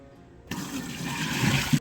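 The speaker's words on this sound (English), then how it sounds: "it's full of water, so I'm gonna dump it" Water poured out of a Stanley 40oz tumbler with its lid removed, a short gushing splash starting suddenly and running for over a second, close and fairly loud.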